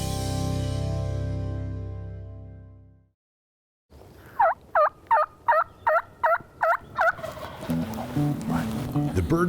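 A wild turkey in the Roanoke gamelands of Mitchell County gobbles in a rapid burst of about seven loud, close calls, after a brief silence and before outdoor noise resumes.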